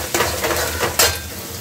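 Eggplant roasting in a dry pan with no oil gives a brief, close crackle and hiss, with a couple of scraping stirs and one sharper clatter against the pan partway through.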